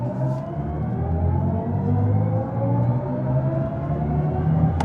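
BMW i7 xDrive60 M Sport dual-motor electric car accelerating in sport mode, a rising electric motor whine building steadily over continuous road and tyre rumble, with no talking.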